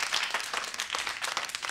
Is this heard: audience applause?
yes